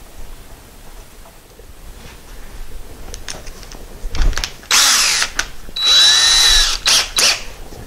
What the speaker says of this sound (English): So let me get that stuff cleaned up, and we'll get ready to drill those out.